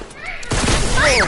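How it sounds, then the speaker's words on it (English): Gunfire in a first-person shooter video game bursts in partway through, loud and continuous, mixed with game effects and a player's excited voice. "Ah, there's someone shooting at me!"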